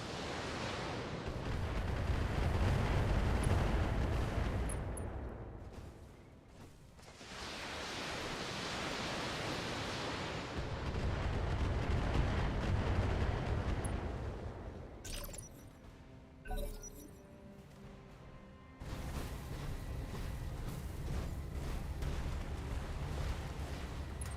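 Weapons fire at enemies in a video game battle, a loud continuous roar of shots and explosions that surges and dips, with brief lulls and a sharp burst near the middle, and no voices.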